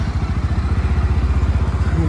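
A Bajaj Pulsar NS 160 motorcycle revs close by, its exhaust giving a loud, steady rapid thumping throb that holds throughout.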